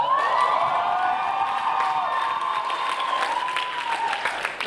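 A stage gala audience bursts into loud, sustained applause mixed with cheering and whoops, dense clapping that fills the room and carries on without a break.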